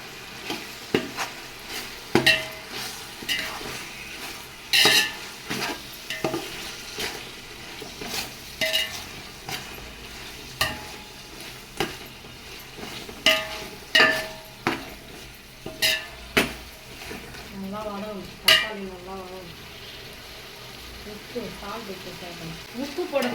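Tomatoes and onions fry in a pot for chicken biryani, with a steady sizzle under frequent scraping strokes of a metal spoon and a brief murmur of a voice near the end.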